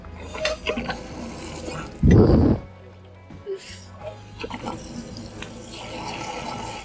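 Water gushes briefly from a roadside street pump into a container in Hungary, a loud splashing burst amid outdoor background noise and scattered clatter.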